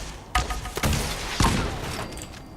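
Enemy gunfire in Fallout 4: a few sharp shots and thuds over a couple of seconds, fairly loud against steady game background noise, with no talking.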